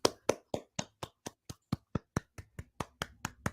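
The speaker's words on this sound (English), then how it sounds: "Your clap is really weirdly muffled." A single person clapping hands, muffled and dull, about fifteen evenly spaced claps in a steady rhythm, close and alone with no talk.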